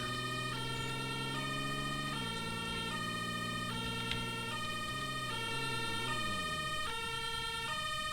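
Fire engine siren from the emergency-services video game Emergency Hamburg, a synthetic wail that steps between pitches in a repeating pattern, held at a steady level throughout with no voices.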